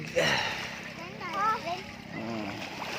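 A freshly caught octopus, taken while spearfishing, drops into water with a short splash near the start, followed by people talking close by.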